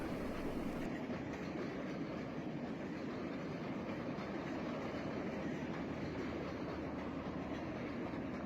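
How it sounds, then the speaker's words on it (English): A steady, continuous rumble of a train passing through Henderson, Colorado, dense low roar with faint rhythmic clatter, moderately distant and unbroken throughout. "As the train passes through Henderson"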